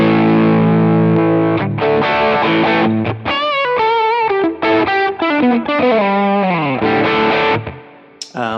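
Electric guitar driven through a J.Rocket amp-style overdrive pedal, playing a sustained chord and then a run of bending, vibrato-laden lead notes with a gritty, saturated edge, loud and close with no talk.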